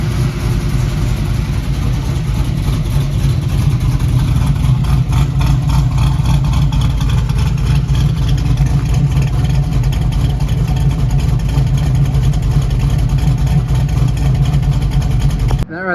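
A cold 6.0 LS V8 fitted with a Texas Speed cam idles high in a 1967 Camaro, a loud, close, deep lumpy rumble that chops steadily for about sixteen seconds.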